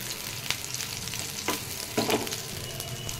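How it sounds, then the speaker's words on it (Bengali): Soybean chunks fry in oil until crisp, making a close, steady crackling sizzle with a few louder stirring scrapes and clatters. "যতক্ষণ না লাল হচ্ছে ততক্ষণ এটা আমি ফ্রাই করতে থাকবো"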